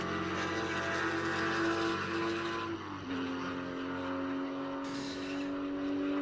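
A classic race car works through the Le Mans chicane at Daytona during a historic 24-hour event, engine note dropping sharply as it brakes, then climbing in a steady loud drone as it accelerates away.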